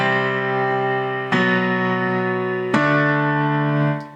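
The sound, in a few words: piano playing octaves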